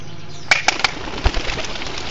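Racing pigeons released at a race staging in front of a church in Claveria, with a few sharp bursts of wing flapping and a thump over steady outdoor background, no talk.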